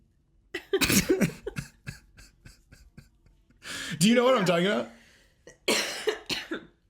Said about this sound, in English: This talking is making me cough.